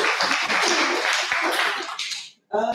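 Audience applause for Mas Pandu at a law faculty focus group discussion and seminar: a dense, steady wash of clapping for about two seconds that fades out, followed by a brief burst of speech.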